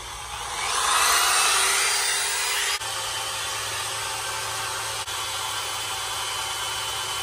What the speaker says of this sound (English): You can hear the drill dying.